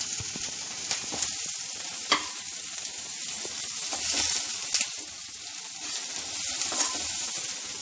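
Chopped onions for a samosa filling sauté in a hot pan, a steady close sizzle with occasional scraping stirs and light clinks, no voices.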